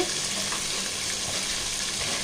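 Long-cut eggplant pieces go into spices frying in oil in a pan, giving a loud, dense, continuous sizzle with light stirring, no voices.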